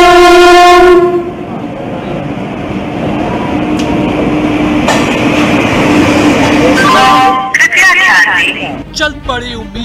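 A passenger train on a railway line in India, on the Darbhanga–Saharsa route, opens with a loud, sustained horn blast and then rumbles steadily past. A second horn sounds near the end, and a voice comes in over the last seconds.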